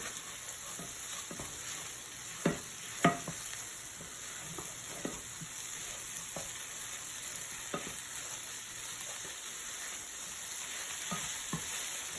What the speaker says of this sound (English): just going to go ahead and sprinkle them on top and quickly stir to incorporate